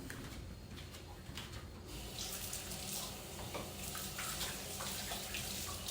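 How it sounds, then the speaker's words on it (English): Water running steadily from a tap as hands are washed, a continuous close hiss and splash at moderate level with shifting spatter over the full length, no one speaking. "I'm going to wash my hands"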